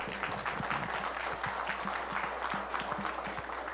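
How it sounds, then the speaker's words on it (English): Audience applause for young kids at a 4-H provincial beef show, a steady wash of many hands clapping in a large hall, sustained at even loudness throughout. "how about a round of applause for these young kids?"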